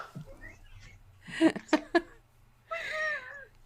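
A house cat meows a few times close by, one short call followed by a longer drawn-out meow, in an otherwise quiet room.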